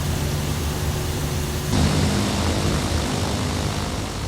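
Cessna propeller engine droning in Flight Simulator X during a glacier flight, a steady broadband hum whose tone shifts abruptly partway through as the throttle changes, continuous and loud.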